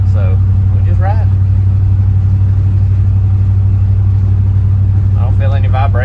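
Dodge D100 pickup truck cruising steadily at about 40 mph, a constant low engine and road drone throughout, with someone talking briefly over it near the start and end.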